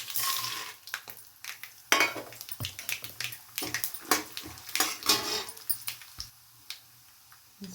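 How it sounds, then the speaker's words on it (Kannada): Mustard seeds crackle and spit in about six spoons of hot oil, tempering for amla chitranna (gooseberry rice). Irregular sharp pops and sizzling bursts come close up, with no talking. "ಈಗ ಸಾಸಿವೆ ಹಾಕೋಣ. ಒಂದು 6 ಸ್ಪೂನ್ ಎಣ್ಣೆ ಹಾಕಿದ್ದೀನಿ."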